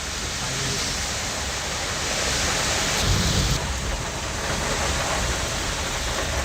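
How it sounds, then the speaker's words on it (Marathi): Heavy monsoon rain in Mumbai with thunder and strong wind, a loud, dense, continuous roar of downpour that swells briefly midway with a deeper thunder rumble. "जोरदार पाऊस आणि त्याच्यातच सोसाट्याचा वारा"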